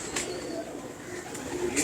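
Close, soft cooing rises from a breeder's pigeons in Model Town, a low murmuring throb under light background noise, with a voice in the mix.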